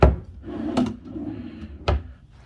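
A wooden hotel room drawer slides and knocks shut, giving two sharp close clunks with a soft scraping glide between them in a quiet room.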